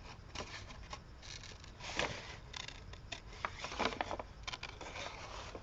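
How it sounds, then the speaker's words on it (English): Paper being cut with scissors that are slowly closed while the sheet is turned for a detailed cut, giving soft, continuous crisp rustling and snipping textures at close range, with no talk. "You're just closing your scissors while you're turning the paper."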